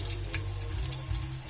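Garlic sautéing in a hot pan for ginataang papaya with shrimp, a steady close sizzle with watery hiss running continuously throughout.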